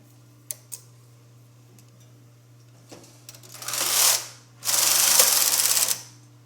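A knitting machine carriage sweeps across the needle bed while knitting a sweater, giving two loud, rasping passes that swell and stop, with a few faint clicks before.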